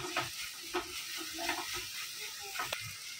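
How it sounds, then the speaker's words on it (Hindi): Ginger and garlic fry with softened onion in a pan, a steady sizzle broken by repeated clinks and scrapes of stirring, close and moderately loud. "अभी अदरक लहसुन अच्छे से उसकी कच्चापन जाने तक अच्छे से भूनेंगे।"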